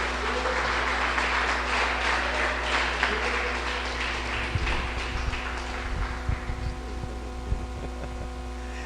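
A church congregation claps together in a dense, even patter that fills the first half and then thins out, leaving a low steady hum and a few scattered knocks.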